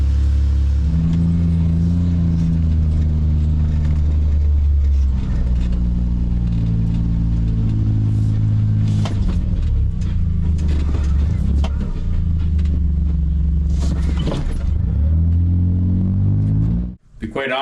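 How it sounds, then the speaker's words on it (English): A motor pump moving maple sap from a pail into a tub drones steadily and loudly with a low engine hum, then cuts off abruptly at the end. Someone talks over it throughout. "We'll pump her all up into the tub."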